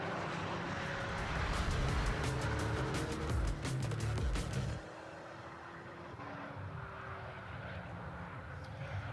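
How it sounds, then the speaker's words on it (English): Ferrari 488 Challenge race cars on a formation lap at Snetterton during a Ferrari Challenge UK race, a loud, steady engine roar and rumble for several seconds that drops to a softer, more distant hum midway. "So the cars are on their final formation lap"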